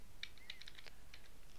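A handful of quick, light keystrokes on a computer keyboard while a command is entered at a Windows command prompt, faint and close, with no talking.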